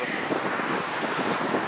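Steady wind rushes and buffets the microphone, with a faint roadway hum underneath and no voices.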